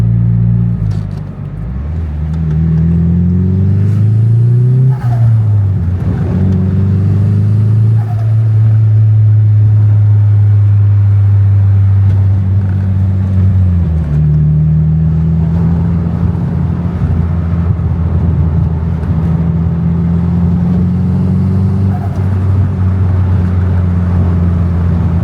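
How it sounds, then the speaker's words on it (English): A turbocharged Nissan SR20DET engine revs in long sweeping pulls, rising and falling in pitch, loud and close with a deep steady drone between the revs. "it actually sounded like a turbo car for the first time after paying all this money"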